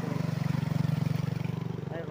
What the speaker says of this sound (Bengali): একটা বাইক যাচ্ছে